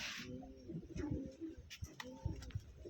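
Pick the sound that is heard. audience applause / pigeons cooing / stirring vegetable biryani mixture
pigeons cooing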